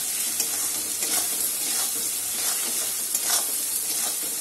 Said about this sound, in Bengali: এবার সমস্ত উপকরণগুলো আমি ভালো করে কষিয়ে নেব তেলের মধ্যে